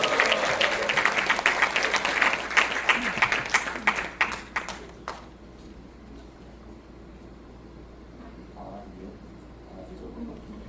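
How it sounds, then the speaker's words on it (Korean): A crowd at a missionary conference lecture applauds loudly for about five seconds, the dense clapping fading out quickly into quiet room tone. "다시 한번 뜨거운 박수 부탁합니다."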